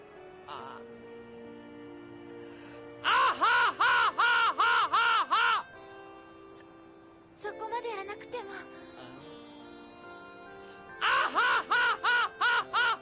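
A crow-like creature in Final Fantasy X lets out two bursts of rapid, harsh, pulsing yells, each about eight repeated squawks, loud and close, separated by a stretch of game music and softer in-game voicing.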